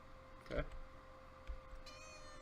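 A house cat meows briefly a couple of times, faint and close, beneath a voice and a steady electronic hum during a Modern Magic: The Gathering game.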